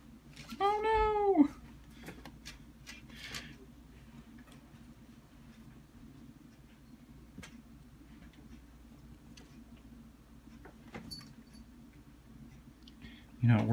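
A cat gives one loud, clear meow at the start while walking across a screen, followed by quiet room sound with faint clicks and a brief thump at the end.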